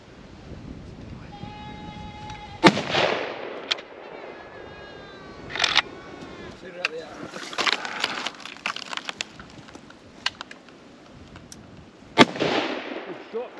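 Rifle shots during a pig hunt in the mountains: three sharp, loud cracks spread across a quiet outdoor stretch, with rustling, faint animal cries and low voices between them.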